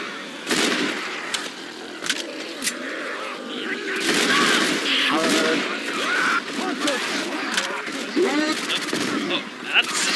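Gunfire from the video game Left 4 Dead 2, with sharp repeated shots and rapid bursts scattered throughout at varying loudness, mixed with game sounds and people talking over it.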